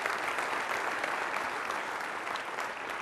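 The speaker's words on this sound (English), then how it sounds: "So give yourselves a round of applause." A large audience of around 430 people at a leadership symposium claps together, a continuous, even wash of applause lasting about three seconds, heard at a moderate distance and fairly soft, with no speaking over it.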